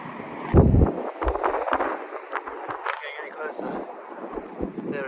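Strong wind buffets a phone microphone at the Hoover Dam, with irregular rumbling gusts and low thumps under faint background voices.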